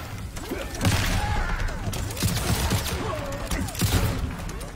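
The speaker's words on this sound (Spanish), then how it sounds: "O disparo." Rapid gunfire rattles in bursts over dense, continuous noise and clatter, loud and busy throughout, with no clear speech.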